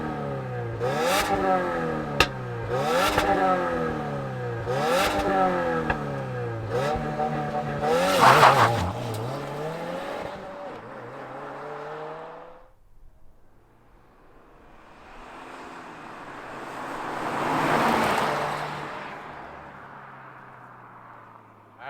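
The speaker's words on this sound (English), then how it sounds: "let's hear what this WRX sounds" A 2022 Subaru WRX engine revs repeatedly in sharp rising and falling bursts, then falls quiet before the car drives off with a swelling, fading engine roar.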